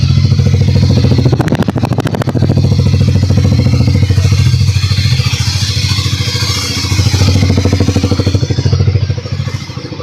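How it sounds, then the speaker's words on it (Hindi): A Harley-Davidson X440 motorcycle engine idles loud and close, its thumping pulse steady, with two brief rises in revs before it settles again. "तो ये थी साउंड हार्ले डेविडसन X440 की।"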